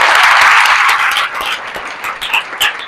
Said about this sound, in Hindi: चलिए ताली बजे, ताली बजे।